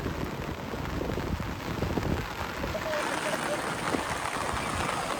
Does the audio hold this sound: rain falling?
yes